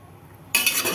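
Half a kilo of mutton with ginger garlic paste being stirred in a pot: near silence, then a sudden burst of close scraping and sizzling stirring noise for the final half second.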